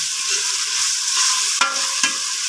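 Ginger garlic paste sautéing in a pan for mutton biryani gives a steady close sizzle, with two brief spatula scrapes near the end and no voices.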